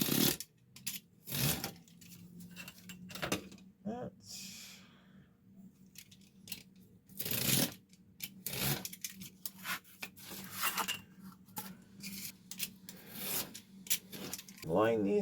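Cutting another piece of material for an insert for an original Lionel box: close, uneven rasping and scraping strokes in short bursts with pauses between, loud then quieter, with no voices.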